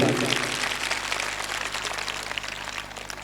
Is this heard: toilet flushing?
no